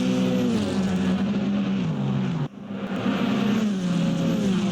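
GT race cars at speed on the Indianapolis Motor Speedway road course, engines roaring loud and close with shifting pitch as they run side by side onto the main straight into turn 1, a brief dip midway before the noise surges back.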